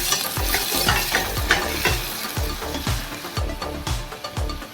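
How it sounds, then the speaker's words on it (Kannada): Onions sizzle in hot oil in a pan for a South Indian okra stir-fry, with a steady frying hiss and regular scraping strokes of a spoon stirring them, close and loud, with no talking. "ಎಣ್ಣೆ ಕಾದ ನಂತರ ಈರುಳ್ಳಿ ಹಾಕಿ ಚೆನ್ನಾಗಿ ಬಾಡಿಸ್ಕೋಬೇಕು."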